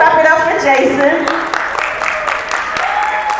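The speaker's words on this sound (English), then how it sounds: "Let's clap it up for Jason." A crowd at the Liberty City arts fair in Miami applauds loudly for the artist Jason, with dense, close clapping that thins a little toward the end.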